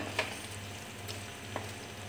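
Chicken pieces for chicken thoran sizzle and fry in a pan, a faint steady crackle with a couple of soft stirring clicks.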